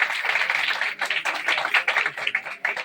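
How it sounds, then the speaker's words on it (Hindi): Children clapping together at a school function, a dense broadband patter of many small hands that stays steady for about three seconds, with brief dips and swells in intensity and no voices. "तालियां बच्चों बच्चों तालियां।"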